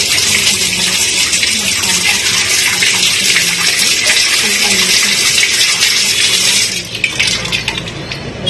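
A home dishwasher loaded with utensils starts and fills with water, a loud continuous gushing rush that eases near the end and gives way to a few lighter splashes.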